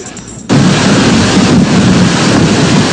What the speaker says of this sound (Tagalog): Takot na takot sa tila, umuungol na tunog ng hangin, kasabay ng malakas na ulan.